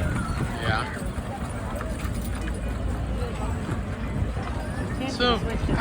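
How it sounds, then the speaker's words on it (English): Horses pull wagons in a Tennessee Mule Day parade, hooves clip-clopping steadily on pavement amid crowd noise, with people talking over the rhythmic clatter. "When those wagons are going downhill, how do those horses"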